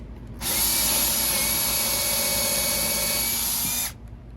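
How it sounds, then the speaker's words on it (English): A Ridgid power drill runs steadily at high speed for about three and a half seconds, spinning up sharply and cutting off cleanly, loud and close with no talking. "If you want to drill it,"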